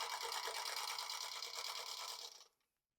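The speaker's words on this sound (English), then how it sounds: "we're letting our presser foot and our feed dogs take our fabric versus twisting or pulling" Sewing machine stitching a scant quarter-inch seam in quilt fabric, a steady, close, continuous mechanical whir that runs for about two and a half seconds, then stops abruptly, leaving silence.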